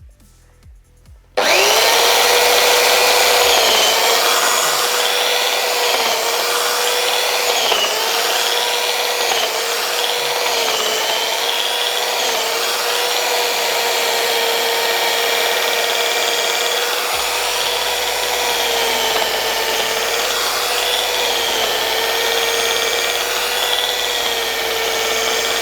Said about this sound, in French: Nous venons d'effectuer le deuxième test sur ce jean moto avec cette ponceuse